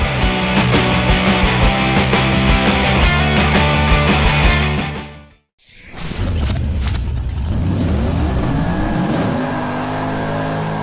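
A 2016 Hyundai Sonata ECO 1.6 turbo drives steadily with a loud, continuous engine and road hum, briefly dropping out near the middle before resuming just as strongly, with no voices.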